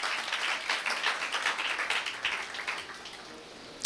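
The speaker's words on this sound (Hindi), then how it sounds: "यस्सु के लिए जोरदार तालियां बजाएं" A church congregation at an Urdu-Hindi sermon breaks into applause, producing a few seconds of dense, fairly distant clapping that fades toward the end.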